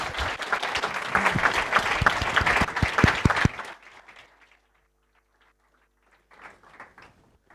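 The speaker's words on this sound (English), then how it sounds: "Give everyone a round of applause." An audience applauds at a panel event. Dense, loud clapping fills the first three and a half seconds, then cuts off, followed by near silence with a few faint scattered sounds.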